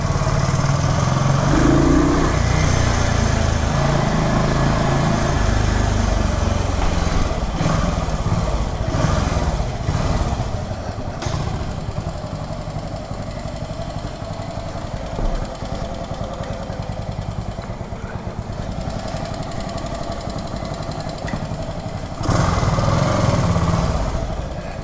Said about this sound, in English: I was really excited about riding this classic original Harley Davidson Sprint